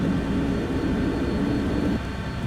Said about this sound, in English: So that is full power takeoff.